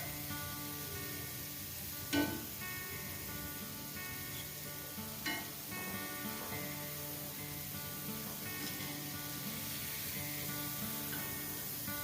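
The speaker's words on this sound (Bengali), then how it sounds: "আর যেহেতু তেলটা এখনো গরম আছে খুব, তাই জন্য আমি গ্যাসটা কমিয়েই এটা ভাজছি" Kheer pantua fry in very hot oil over a lowered gas flame, giving a continuous dense sizzle with a few sharp pops and crackles scattered through.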